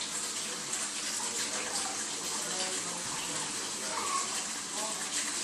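Water pours steadily into a cooking pan, a continuous close rushing hiss that holds the same level throughout.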